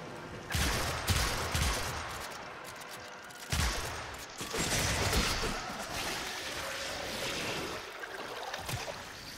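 Gunfire in the video game Warframe during a survival mission, several bursts of loud crackling shots with rumbling booms between them, close and dense over a noisy game background, no talk.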